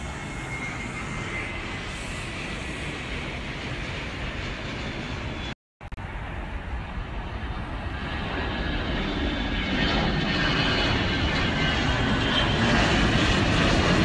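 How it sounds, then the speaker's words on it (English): Airplane jet engines roar steadily beside runways next to parking garages at an airport, a loud, continuous wash of engine noise that briefly cuts out, then grows slightly louder as it carries on without any talk. "The runways were right next to the parking garages, and I just stood out there and watched all these planes"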